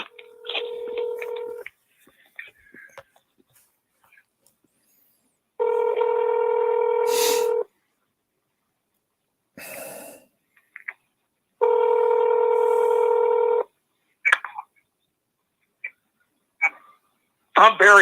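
Telephone tones on a call placed through Google: two long, steady electronic tones about two seconds each, loud and close, separated by quiet gaps with brief clicks and short snatches of voice.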